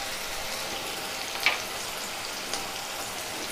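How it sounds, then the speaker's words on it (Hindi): Ginger garlic paste sizzles in a pan with softened onion and tomato, a steady close frying hiss with a faint stirring tap or two. "अब हम इसमें अदरक लहसुन का पेस्ट डाल देंगे"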